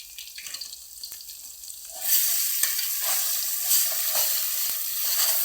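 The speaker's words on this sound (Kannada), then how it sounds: "ಸ್ವಲ್ಪ ಮಿಕ್ಸ್ ಮಾಡ್ಕೊಳ್ಳೋಣ ಇದನ್ನು ಎಣ್ಣೆಯಲ್ಲಿ." Ground masala for a fresh cowpea curry is stirred into hot oil, the quiet start giving way to a louder, dense sizzle and crackle with scraping stirs up close.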